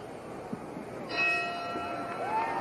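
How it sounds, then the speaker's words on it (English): A boxing ring bell signals the start of round one in the Muhammad Ali vs Buster Mathis fight, ringing out with a lingering tone over the steady murmur of the arena crowd. "The bell for round one."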